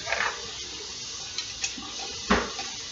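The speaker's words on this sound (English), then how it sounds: "take a ladle of the very hot brine and just begin to pour it into the" Very hot brine ladled into a glass pickle jar packed with dill gives a quiet pour, with a few soft clinks and splashes scattered through it.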